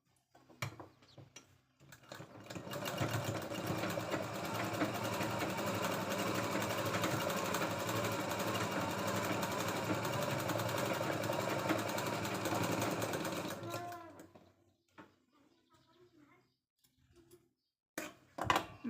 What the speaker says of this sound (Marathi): आता आपल्याला याच्यावरती एक दाबटीप मारून घ्यायची आहे.